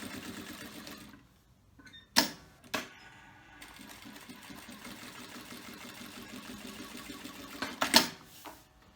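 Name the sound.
sewing machine stitching a bag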